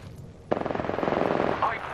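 Video game gunfire crackles in a rapid sustained automatic burst that starts abruptly and runs steadily to the end, moderately loud and not very close.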